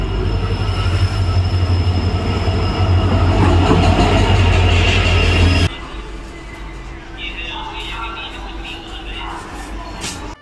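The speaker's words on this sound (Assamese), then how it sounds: "গোরেশ্বরৰ পৰা যাম নলবাৰী ট্ৰেইন আহি আছে" Train rolling into a railway station, a loud close rumble of wheels and carriages for several seconds that cuts to quieter station ambience with distant noise.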